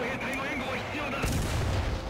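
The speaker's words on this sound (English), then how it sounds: "I can basically fire 3 shells for smoke cover" Tank guns firing smoke shells in War Thunder, a Sherman in the battle, with a heavy low boom around the middle over a continuous rumbling battlefield and engine drone, and a voice talking faintly underneath.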